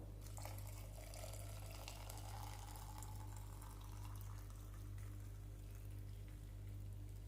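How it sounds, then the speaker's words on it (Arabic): Boiling water pours over chili peppers for pickling, making a faint, steady splashing stream over a low background hum, with no talking. "عندي ماء سخون يغلي، نصب لها الماء السخون"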